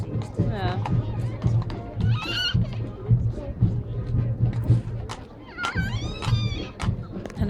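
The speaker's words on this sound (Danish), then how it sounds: "Han er godt nok utålmodig, den hest derhenne." An impatient horse at a ringriding event in Sønderborg gives several loud, close whinnies, rising then falling, over a busy crowd murmur and a low steady hum.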